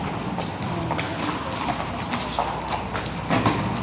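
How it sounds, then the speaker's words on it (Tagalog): Horse hooves clip-clop in a steady rhythm close by, several sharp knocks against hard ground over a busy outdoor background. "Ayan na siya si kabayo."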